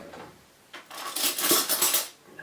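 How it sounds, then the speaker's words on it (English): Spoon stirring a venison jerky marinade with maple syrup and whiskey in a bowl, a burst of clinking, scraping strokes that swells then fades, close and alone. "I'm gonna mix all that up."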